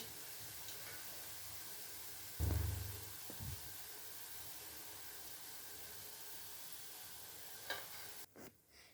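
Jantikalu, a savory Telugu snack, fry in hot oil with a faint steady sizzle, interrupted by a couple of louder clunks and stirring movements near the start and end.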